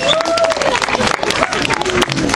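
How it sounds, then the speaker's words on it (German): An audience claps and cheers in a sustained burst of applause, dense and lively, with voices and a host talking over it. "Welchen Applaus für den lieben Matt?"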